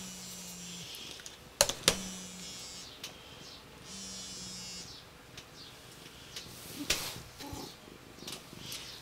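Cats purring softly at close range, a faint steady rumble broken by a few sharp clicks and knocks, with low hums coming and going.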